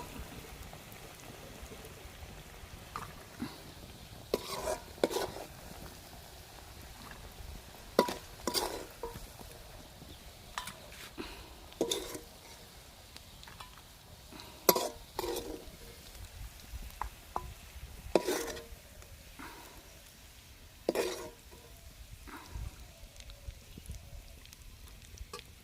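Black gram lentils frying in a pan, a faint low sizzle broken by repeated sharp scrapes and clinks of a spatula against metal at irregular intervals, close by.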